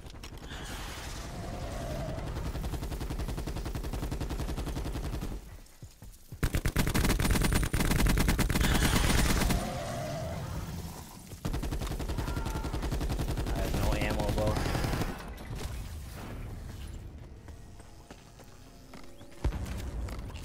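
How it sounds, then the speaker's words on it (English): Video game firefight with rapid automatic gunfire and sniper shots, dense and loud in long rattling stretches separated by brief pauses, with faint talk at times. "I'm not sure exactly where at we were getting sniped from."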